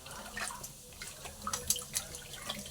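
Chopped radish greens are swished and rinsed in a vessel of water, producing close, irregular splashes and drips with small sloshing bursts over a short stretch.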